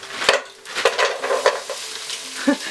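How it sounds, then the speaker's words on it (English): Corn tipped into a hot frying pan for Japanese vegetable curry, sizzling close by with several sharp clinks and scrapes of a utensil against the pan at irregular intervals. "I'm going to add the corn"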